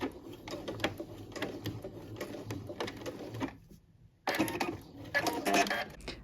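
A domestic sewing machine back stitches a cotton tote bag, its rapid needle chatter running steadily, pausing briefly, then resuming loud and close.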